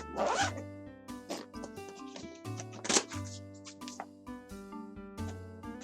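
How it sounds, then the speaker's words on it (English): Zipper on a storage pouch for a game console pulled open in several quick, close zipping strokes with short pauses between, crisp and loud with no talking. "There's a zipper that you can put random stuff in"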